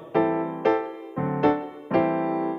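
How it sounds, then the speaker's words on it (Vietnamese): Piano voice on an accompaniment keyboard striking five separate chords, each ringing and fading before the next, clear and close with no talking. "tiếp theo đó là tiếng piano"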